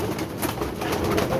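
Pigeons coo softly in a low, steady murmur that runs through the whole moment, with a faint rustling background.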